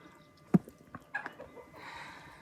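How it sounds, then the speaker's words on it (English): Distant chickens at a Yukon cabin retreat cluck in a few short, scattered bursts over quiet outdoor background noise. "Shall we go say hi to the chickens?"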